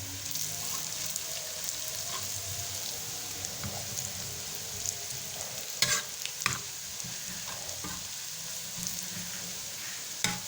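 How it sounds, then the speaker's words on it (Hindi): Minced meat keema frying on a tawa with crushed chili, coriander and cumin, a steady close hissing sizzle with occasional scrapes and stirring clacks, no talking. "और अब हम इसको फ्राई कर रहे हैं।"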